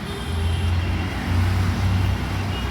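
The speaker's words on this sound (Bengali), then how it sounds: "শব্দগুলো হচ্ছে গাড়ি ঘোড়া" Steady morning road traffic on a foggy, cold street around nine o'clock, with cars and heavier vehicles rumbling past as a continuous low drone that swells slightly midway, no voices over it.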